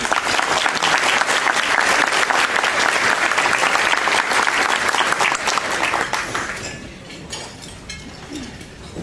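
An audience at an AICPA conference applauds to welcome chairman Bob Harris: loud, dense clapping from a large crowd that fades away over the last few seconds.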